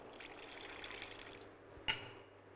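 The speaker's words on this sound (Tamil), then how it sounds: "இப்போ இந்த டயத்தில் கொஞ்சம் தண்ணி சேர்த்துக்கலாம்." Water is poured into thick cooked toor dal sambar in a cooking pot, a soft continuous trickling pour with a brief clink near the end, quiet and without talk.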